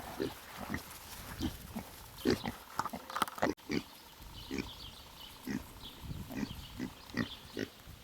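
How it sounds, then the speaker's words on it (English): Three homestead pigs nearing maturity, around 11 to 12 months old, grunt and oink in short, repeated bursts at moderate distance, with no talking. "Three piggies coming to the age of maturity"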